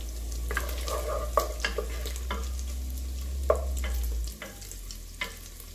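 Chorizo fries in oil in a pan with a steady low sizzle, broken by several sharp scraping and stirring clicks; no one speaks.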